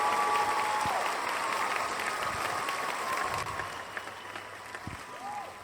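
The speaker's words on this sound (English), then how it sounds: "a round of applause, please." An audience claps for an author of books introduced at a lecture, a steady, moderately loud patter of hands that continues throughout with a faint background tone and occasional stray noises.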